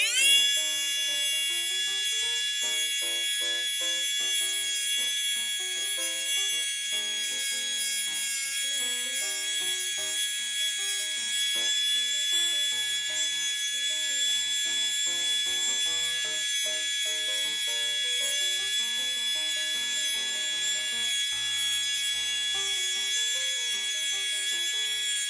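A Tamiya Hyper-Dash Pro Japan Cup 2020 Limited Edition mini 4WD motor spins at high speed, giving a steady, piercing high-pitched electric whine that holds constant and close for the whole stretch, with no other sounds.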